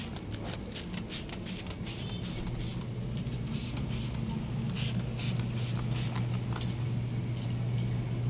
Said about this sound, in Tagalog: Spray ng kabango.